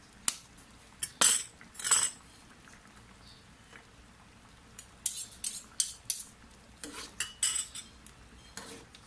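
A spoon stirs arroz caldo, a Filipino rice porridge, in a pot, mashing the rice, giving scattered clinks and scrapes against the metal in uneven bursts with quiet gaps between.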